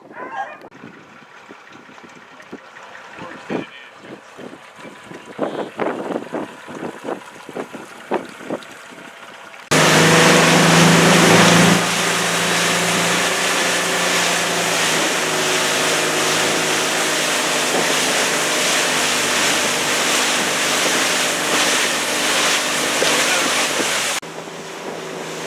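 Boat at a ramp being put into the sea for a sea trial, with water sloshing and wind buffeting the microphone, then a loud, steady engine and wash noise that holds for about fifteen seconds.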